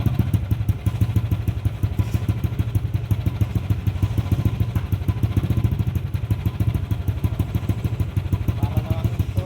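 An overheating Yamaha Aerox 155 scooter engine runs steadily while warming up, giving a close, continuous pulsing idle with light mechanical clatter.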